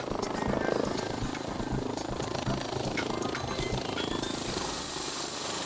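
A civil security helicopter sets down on motorway lanes, rotor blades chopping in a fast, even pulse that stays steady and fairly near.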